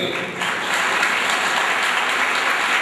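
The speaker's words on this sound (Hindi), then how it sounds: "उनका स्वागत आप बहुत जोर से तालियों से करोगे" A gathering of community members gives loud applause to welcome the makers of a newly published book, many hands clapping in a dense, sustained roar that swells slightly after the start.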